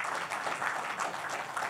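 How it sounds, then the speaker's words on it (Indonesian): Brief, fairly faint applause from a church congregation, an even patter of many hands clapping for under two seconds. "Kasih tepuk tangan bagi Tuhan."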